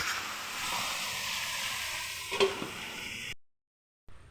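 Brinjal curry with a little cumin powder fries in a pan, giving a soft, steady sizzling hiss with a brief stirring scrape near the end before the sound cuts out.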